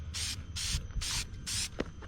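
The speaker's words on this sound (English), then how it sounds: "I'm going to put some fresh K&N air filter oil on it" K&N air filter oil sprayed from a can onto an air filter in four short, even hissing bursts, close and fairly loud, with a faint thump between them.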